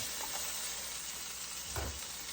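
Onion browning in a pan for pork chops and rice: a steady, soft frying hiss throughout, with a couple of brief stirring scrapes, near and fairly quiet, no voices.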